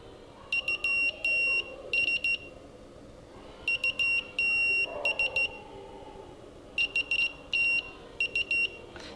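A multimeter's continuity tester sounds short, high electronic beeps keyed as Morse code, grouped in rhythmic bursts of dits and dahs with pauses between groups, clear and close.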